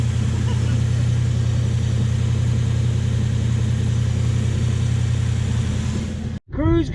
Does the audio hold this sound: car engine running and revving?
yes